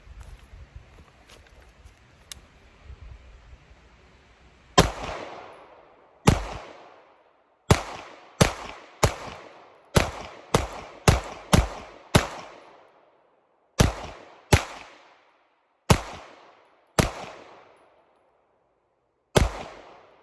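Sig P226 ZEV pistol firing, about sixteen loud, sharp shots with crisp decays, first a lone shot then quick clusters and spaced singles, each cracking out against near silence after a faint low rumble at the start.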